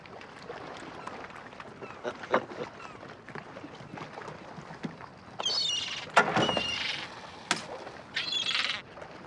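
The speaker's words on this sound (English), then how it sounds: "Damn seagulls." Gulls calling in short harsh bursts over a waterside scene near a lobster boat, with a steady background of water and boat noise; several loud cries cluster toward the end.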